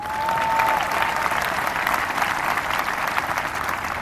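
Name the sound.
audience applause at a graduation ceremony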